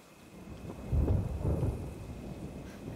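Thunder rolls low and fairly faint through a rainy storm, swelling to a deep rumble midway and then fading back into the steady patter of rain, with no voices.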